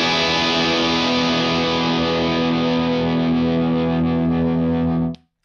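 Electric guitar played through a Bearfoot FX Dyna Red Distortion pedal, the 4-knob version, giving a thick, saturated distorted tone with sustained chords ringing steadily for about five seconds before cutting off abruptly.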